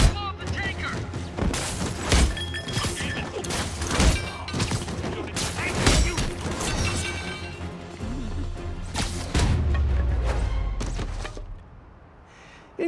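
Gunfire in a Spider-Man video game aimed near a tanker truck, rapid bursts of shots mixed with crashes and impacts, loud and dense throughout, with a heavy low boom near the end.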